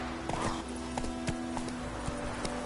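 Roach the horse walks in The Witcher 3 video game, her hooves clip-clopping in a steady, evenly spaced rhythm, fairly close and moderately loud against a quiet ambient hum.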